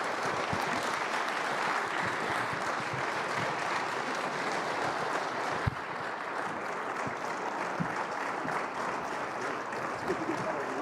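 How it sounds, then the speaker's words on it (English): A crowd at a college football coach's introductory press conference at Colorado State claps in sustained, dense applause, steady throughout with a few louder individual claps standing out. "How about one more round of applause for the 24th head coach at Colorado State"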